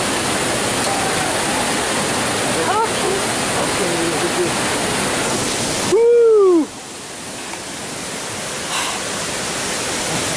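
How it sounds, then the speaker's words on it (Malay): Trumon waterfall roars as a steady, loud broadband rush throughout, with a brief sharp burst near the middle. "Kami udah sampai di air terjun"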